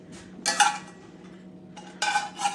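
Cast iron pan handled while biscuits are lifted out, giving two short bursts of metallic clinks and scrapes near the mic, with quiet gaps between them.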